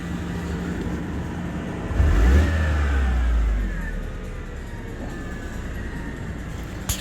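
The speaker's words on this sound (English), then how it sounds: "The car is running, and honestly the car sounds really good for its age and mileage." A Mercedes C180 Kompressor with a 1.8 petrol engine runs with a steady hum, swelling briefly louder for a couple of seconds as if revved, then settling back to idle, heard close without speech.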